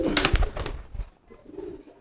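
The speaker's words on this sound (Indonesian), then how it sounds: "kalau merpatinya mau giring seperti ini nih" Pigeon cooing in courtship display, a few throaty rolling coos close to the microphone, loudest at the start and then trailing off with a softer coo near the end.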